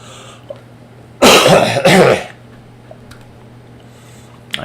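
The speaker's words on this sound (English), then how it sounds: "I have had a slight cough." Two loud, close coughs in quick succession from a person with a slight illness, standing out against an otherwise quiet room with only faint ticks.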